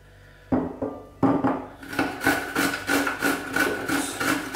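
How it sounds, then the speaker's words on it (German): Cucumber rubbed against the coarse side of a hand grater in a kitchen, a steady run of rasping strokes, close and fairly loud, with no voices. "die Gurke wird jetzt nun gerieben, am besten mit der groben Seite"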